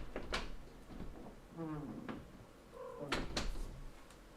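A pet cat meows insistently indoors, several drawn-out, wavering cries close by with short pauses between them, and no talking over them.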